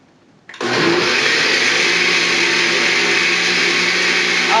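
An electric blender starts abruptly and whirs loudly and steadily at a low chop setting, pureeing hot peanut soup, with no talking over it.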